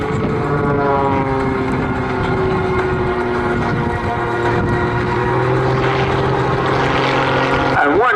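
A Pitts Special muscle biplane at the Southport airshow in 2022 drones loudly and steadily with its propeller engine, the pitch shifting as it manoeuvres and hovers, close and continuous throughout.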